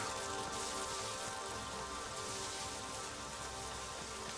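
Steady, dense rain falls in the video game Neverwinter Nights, a constant hiss of drops with no breaks and no voices.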